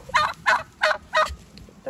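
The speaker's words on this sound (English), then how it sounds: "The turkeys." Kune kune pig farm: turkeys gobble four times in quick rhythmic bursts, close by and clear, over a quiet background.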